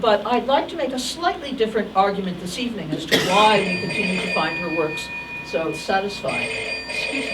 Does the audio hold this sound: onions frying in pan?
no